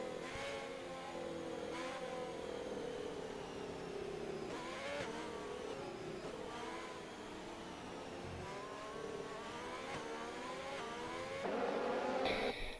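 Race cars accelerating at a safety car restart during a development league round in Bahrain: several engines rev and climb in pitch through gearshifts, a steady blend of whining cars with rising and falling tones.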